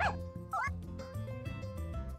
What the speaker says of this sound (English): Oh, I hear a doggy.